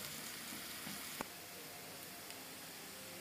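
Onions fry gently in a pan over low heat with a soft, even hiss. One brief click sounds partway through.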